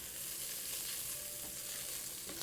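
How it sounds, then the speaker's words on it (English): Rice fries and sizzles in a pan as it is stirred and spread out, a steady close hiss and crackle at low volume with a light scrape near the end and no voices. "Kind of spread that out and then stir it up again."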